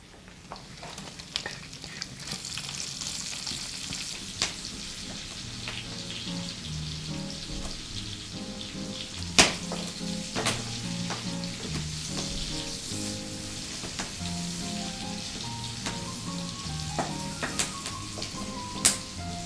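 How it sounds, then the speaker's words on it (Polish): Steady sizzling of sausages frying in a hot pan, with occasional pops and crackles and faint clinks of utensils, no voices. "Pareczki się już ładnie smażą."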